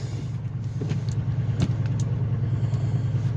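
An old bus engine idles with a low, steady rumble, close and continuous, with a few faint clicks and knocks on top and no talking.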